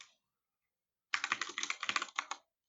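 Quick keystrokes on a computer keyboard as an e-mail address is typed, a close, crisp burst of rapid clicks lasting just over a second, with no talking.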